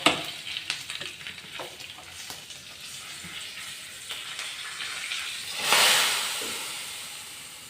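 Soft crackling frying, then a sudden loud burst of sizzling hiss as hot tempering with curry leaves is poured into mango curry, slowly fading away.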